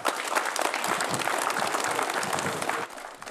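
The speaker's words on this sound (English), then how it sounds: "Give a round of applause." A group applauds a soldier, Sergeant Jackson, on receiving a Quilt of Valor at the Warrior Transition Unit at Fort Sill, with steady, dense clapping from a small crowd that drops off near the end.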